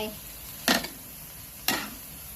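A Nile tilapia chili paste (nam prik narok) of fish simmered with seasoning liquid is stirred in a pan. Two separate, fairly loud scraping strokes break through a quiet background hiss, with no speech.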